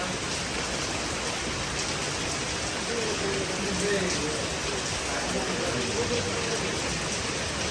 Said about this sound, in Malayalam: ഭയങ്കര മഴയുള്ളൂ